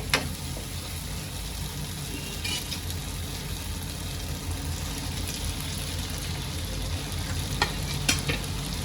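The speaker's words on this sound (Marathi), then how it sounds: "आता सर्व मसाल्यांबरोबर एकत्र करून घेते मी तोंडलीला" Fried ivy gourd (tendli) is tossed with spices in a pan, producing a soft, steady sizzle with occasional scraping and clinking stir strokes, close but fairly quiet.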